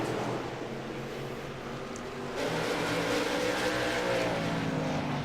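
Stock-style race cars running in a tight pack on a circuit, engines droning steadily and swelling louder about halfway through as the field closes in, with no voices.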